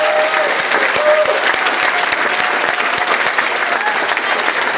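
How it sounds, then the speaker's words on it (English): Loud, sustained applause from a large crowd at an awards ceremony, dense clapping filling the whole stretch with a faint cheer or voice in the mix. "let's do one more round of applause for all of our winners this evening"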